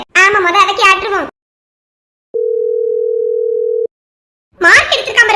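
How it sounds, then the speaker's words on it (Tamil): A steady phone ringing tone sounds for about a second and a half, a single continuous pitched note, between stretches of close conversational talk before and after. "ஃபோன் வேற அடிச்சாச்சு யாரும் தெரியல"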